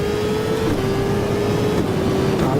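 CART race car engine in Automobilista on the 1998 Detroit street circuit, a steady loud drone with a sustained tone dipping slightly in pitch as it downshifts, continuous throughout.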